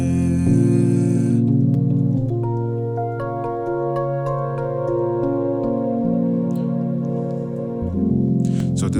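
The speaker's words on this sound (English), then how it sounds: "so this is an after chord" Sustained keyboard chords ring out as an after chord, several stacked harmonic notes changing a few times over nine seconds, clear and close with no talking.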